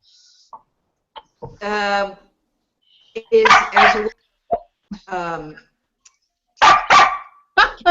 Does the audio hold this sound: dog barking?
yes